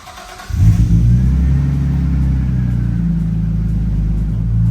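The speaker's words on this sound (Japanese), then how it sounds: "あっちゃん、エンジンかけてみてください。" A tuned Nissan Skyline engine starts and settles into a loud, steady rumble close by, with low throaty tones and slight surges in pitch.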